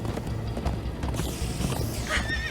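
Horses gallop with rapid clip-clop hoofbeats in Minecraft Story Mode, and a clear whinny rises near the end. The scene is fairly close and busy, with some faint creaking mechanisms.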